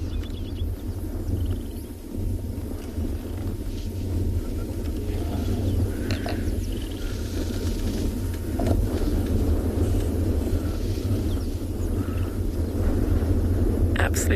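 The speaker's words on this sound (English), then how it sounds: "Still some beautiful thundering noises." Distant thunder over the savanna at Phinda on a hot, cloudy afternoon, a low continuous rumble that rolls on steadily for the whole stretch without sharp cracks.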